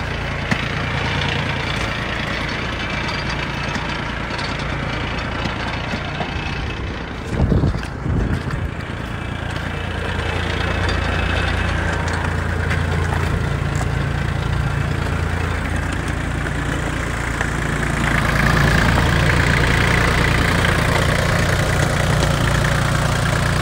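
ISEKI TH235 compact tractor engine idling steadily with the power take-off turning in reverse, a continuous nearby rumble with wind buffeting the microphone and a brief louder knock partway through.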